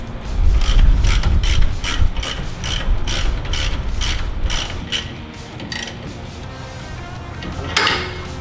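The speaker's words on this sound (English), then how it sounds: "grab your socket again, tighten them up" Socket ratchet tightening caliper bolts on a boat trailer wheel, a string of quick evenly spaced clicking bursts close to the microphone, slowing and spreading out toward the end, with no talking.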